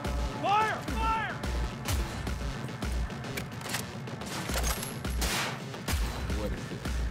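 Gunfire in Cyberpunk 2077, a rapid, dense volley of shots with sharp cracks and impacts running through the whole stretch, with voices shouting over the shooting.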